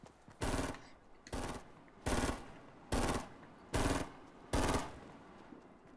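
Six short bursts of rapid automatic gunfire from the video game Fortnite, evenly spaced about a second apart, each crisp and loud against a quiet background.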